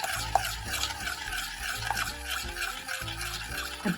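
Spoon stirring an egg yolk through a thickened sauce off the heat, soft scraping and swishing strokes close by with faint pan taps, quiet throughout.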